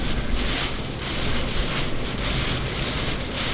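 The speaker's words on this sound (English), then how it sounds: "Man, it's windy." Strong hurricane winds from Hurricane Earl roar and buffet the microphone in a loud, continuous broadband rush with gusty surges and no voices.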